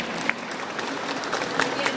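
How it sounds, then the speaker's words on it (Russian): Audience applause at a Comic-Con panel, a steady crowd clapping with a few brighter sharp claps rising out of the wash and faint voices mixed in underneath. "Молодчина, аплодисменты."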